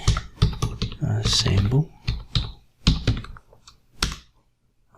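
Computer keyboard typing, a quick run of crisp key clicks near the mic, with a person talking between and over the taps.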